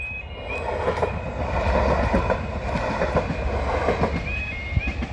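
Train running on the East Suffolk Line in rural Suffolk, a steady rumbling roll with rhythmic wheel clicks and faint high squeals from the wheels, heard at moderate distance with no talking.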